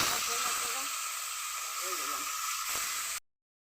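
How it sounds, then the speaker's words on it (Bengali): A fish head frying in a little hot oil in a heated wok on a clay stove gives a steady, close hiss of sizzling, with faint voices murmuring underneath. "হয়ে গেছে, মাছের মাথাটা দিয়ে দিল"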